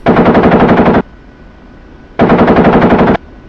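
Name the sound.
50 cal machine gun firing from OH-58D Kiowa Warrior, DCS video game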